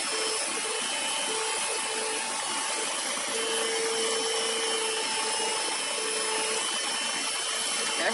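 An electric mixer whirs steadily while beating sugar cookie dough for Christmas cookies, a constant close motor drone with a faint tonal whine that holds through the whole stretch, with no talk.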